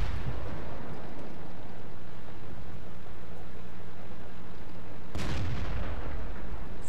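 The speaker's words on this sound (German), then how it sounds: "Guter Schuss hier von Eska" A heavy tank cannon blast booms sharply and rolls away, following a long stretch of rumbling engine and battle noise in World of Tanks.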